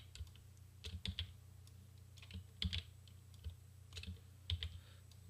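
Computer keyboard shortcut presses, Ctrl C and Ctrl V, repeated again and again: short clustered key clicks in quick pairs and triples, close and fairly soft, separated by brief pauses over a low steady hum.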